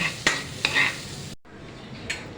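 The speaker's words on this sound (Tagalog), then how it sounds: "Igigisa lang po natin sa butter." Shrimp sautéing in butter in a home kitchen, a steady close sizzle broken by a few sharp scrapes of a utensil stirring the pan, with a brief drop in the middle.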